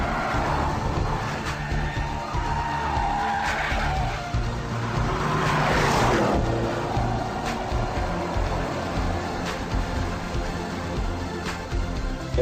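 Porsche Panamera being test driven on a track, engine running steadily with loud tire squeal and skidding through corners, a sustained roaring, screeching pass lasting several seconds.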